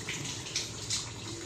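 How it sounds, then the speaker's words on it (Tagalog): Water poured into a pot of simmering chicken afritada, a soft, steady splashing trickle at low level, with no talk over it. "Add tayo ng konting tubig"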